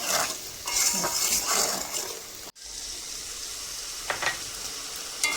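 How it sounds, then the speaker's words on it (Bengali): Spices and chilli frying in a pan for biryani, a close, continuous sizzle with stirring scrapes and occasional utensil taps, briefly cut by a short dropout midway. "দিয়ে বেশ নেড়ে চেড়ে মশলাটা আস্তে আস্তে আস্তে আস্তে করে নিয়মিত জালে সুন্দর করে নেড়ে চেড়ে"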